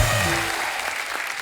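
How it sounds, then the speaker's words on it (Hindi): A studio audience at a Hindi comedy talk show claps loudly to welcome guests, dense applause that starts strong and then thins slightly, alone without talk. "जोरदार तालियां हमारे मेहमानों के लिए।"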